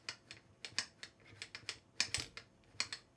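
A Roland VH-10 electronic hi-hat set with a gap between its parts, giving quiet, sharp clicking clacks in an uneven run of about a dozen taps, close and dry with no voices.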